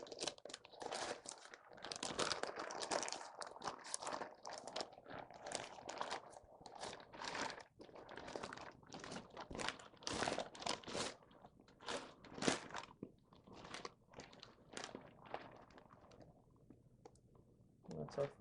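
A rested smoked Prime grade brisket from a 250-gallon offset smoker is unwrapped up close, giving crinkly, crackling paper or foil rustles in irregular bursts, quiet, with someone talking at times.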